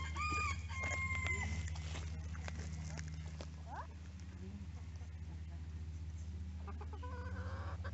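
Chickens cluck and a rooster crows on the farm at Dumfries House, with a crow early on and clucking throughout beneath people talking.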